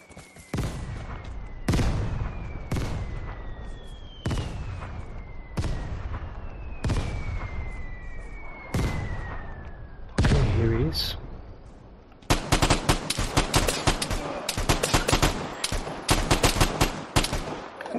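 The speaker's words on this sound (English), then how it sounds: "another guy shooting at me?" Gunfire in the video game Vigor, heavy repeated bursts and single shots, some ringing with echo, then a dense rapid volley near the end, loud and close, with someone talking between shots.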